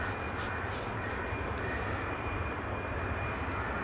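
A West Atlantic aircraft at Edinburgh Airport produces a steady, moderately distant engine roar that holds evenly throughout without any voices.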